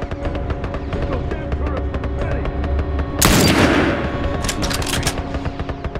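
A turret fires in The Last of Us Remastered as rapid, continuous gunfire rattling throughout, with a louder burst midway, mixed with game ambience and faint voice chatter.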